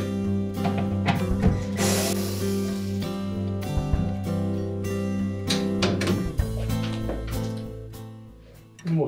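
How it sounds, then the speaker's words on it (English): Screws coming out of a Whirlpool refrigerator's control panel housing: repeated ratcheting, clicking tool sounds up close, with metallic rattles and knocks throughout and no speech. "So next we'll remove the two screws at the back."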